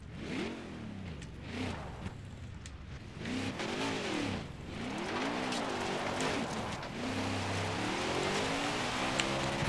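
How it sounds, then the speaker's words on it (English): Race car doing donuts in NASCAR Heat 4, engine revving up and down in repeated swooping cycles with tire squeal, loud and continuous, building toward a steadier howl. "Let's do some donuts for the people at the fair."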